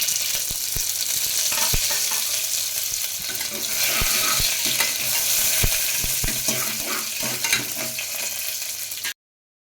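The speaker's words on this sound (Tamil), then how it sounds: "கடுகு பொரிஞ்சிட்ருக்கு" Mustard seeds splutter in hot oil during tempering, with a dense, crackling sizzle and scattered sharp pops running steadily up close before cutting off abruptly at the end.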